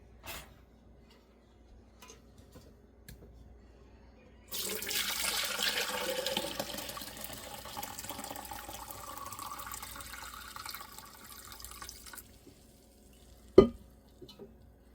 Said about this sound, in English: take my pot of tea and pour it right through there